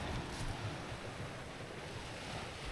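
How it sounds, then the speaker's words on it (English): Sea waves wash steadily onto the wide sandy Skala beach in Kefalonia, Greece, a continuous soft roar of surf with some wind rumble against the microphone. "just a final look at the sea"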